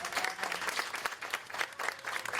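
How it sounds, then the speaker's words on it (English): Applause from an audience gathered for the opening of a new mental health center in Front Royal: dense, steady clapping from many hands, moderately distant, with no talk over it. "Can we do another round of applause?"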